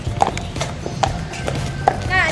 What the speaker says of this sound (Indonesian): ini kudanya